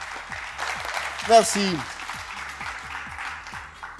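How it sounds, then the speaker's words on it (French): Applause from an audience rattles along beneath a voice, which rises briefly over a low, steady musical backing. "Applaudissements pour elle"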